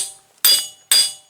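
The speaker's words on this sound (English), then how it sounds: "and tap it with a hammer." Two sharp metallic hammer taps on a nut threaded onto the axle of a 2000-05 Buick LeSabre wheel bearing, each a crisp ringing strike that decays quickly, spaced about half a second apart.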